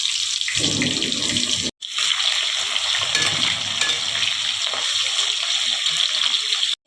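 Onions dropped into hot oil with dry red chillies and five-spice sizzle with a loud, continuous hiss, broken by a brief silent gap, then crackling on strongly.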